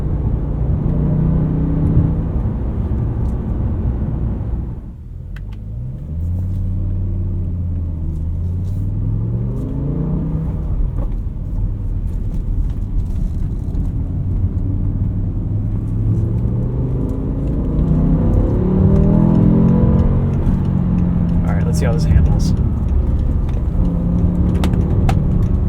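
BMW M5 E60 with a V10 engine and six-speed manual gearbox, driven on the road and heard from inside the cabin. Steady loud engine drone rises and falls in pitch through several gear changes, with a brief dip near the start and no talking.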